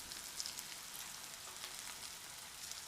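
Cumin and chili powder hit hot oil in a pan on lowered heat, producing a soft, steady hiss-like sizzle with faint crackles, quiet and close.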